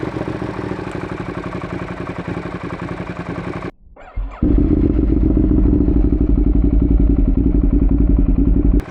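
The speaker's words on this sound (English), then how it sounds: "Fire up the bike." A motorcycle fitted for motovlogging is started with the microphone mounted away from the exhaust: a steady running engine drone, a brief silence and clunk, then the engine fires and settles into a loud, even idle rumble.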